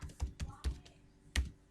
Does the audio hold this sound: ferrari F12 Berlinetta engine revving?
no